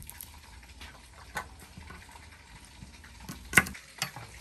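Red tilapia fish deep-frying in a pan, a faint steady sizzle with a few soft utensil clinks and scrapes over about four seconds, no voices.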